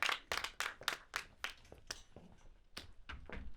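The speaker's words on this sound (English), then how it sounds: "Clap it up." Scattered, faint handclaps from a small audience at a Brooklyn comedy show, a dozen or so separate claps that come in loose bursts and then thin out.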